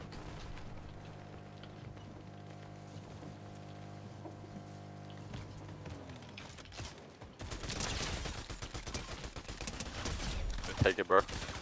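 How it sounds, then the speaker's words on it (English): Gunfire in the Fortnite video game, bursts of rapid shots and clattering weapon mechanics building through the second half, loud and dense, over steady game music and ambient tones. "I'm on to some gunfire."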